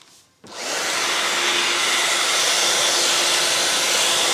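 A hair dryer switches on after a short silence and blows steadily and loudly while drying a wig, a constant close-up rushing whoosh with no talk.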